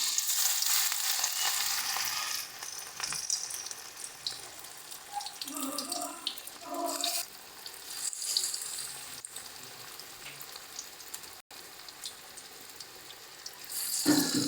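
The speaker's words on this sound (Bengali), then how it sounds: "দেখো এগুলোও কিন্তু খুব সুন্দরভাবে লাল লাল করে ভাজা হচ্ছে।" Prawn chops frying in oil give a steady, fairly soft sizzle throughout, with occasional stirring clinks and someone speaking briefly.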